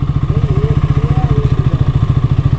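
Motorcycle engine on a village track in rural Rajasthan, close and loud with a rapid, regular chugging idle pulse and faint tonal whine on top, no talk.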